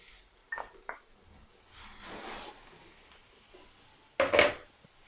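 Grated beetroot, three medium roots, dropped into a pan of melted ghee for beetroot halwa: a few soft wet thumps and a brief scraping, clattering burst near the end, close and moderately loud with no talk.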